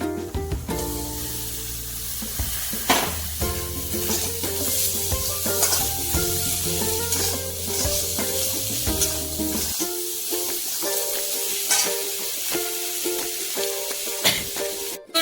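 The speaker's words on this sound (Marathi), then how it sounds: "अर्धा चमचा आमचूर पावडर मिक्स करायची आहे वाटाणा मिक्स करायचा आहे" Peas and amchur powder are stirred into samosa filling in a hot pan, giving a continuous frying hiss with occasional spoon scrapes under a music track that drops away near the end.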